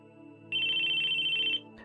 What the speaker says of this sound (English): Suddenly, his phone began to ring